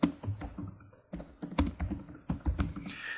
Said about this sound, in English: What we can do is type a description in here.